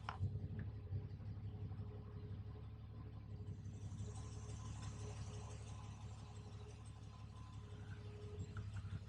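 A smooth, low engine idle from a Triumph TR6 classic car running steadily and quietly, a faint mechanical hum with no speech.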